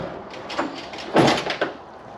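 Rear tailgate window on a 1969 Toyota FJ40 opening, giving a few short mechanical clunks and a louder latch thump in the middle, close and fairly quiet.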